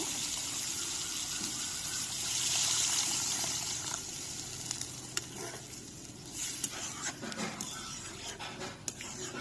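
Water poured into a hilsa fish curry in a pan sets off a steady close hiss and bubbling sizzle, with a brief louder gush near the start and small clinks of stirring later.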